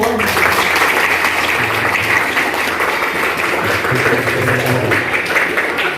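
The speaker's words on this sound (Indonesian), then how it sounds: "Tepuk tangan boleh." Sustained, loud applause from a group of students at a school student-council gathering in Indonesia, many hands clapping in an even, dense patter for several seconds with a low murmur underneath.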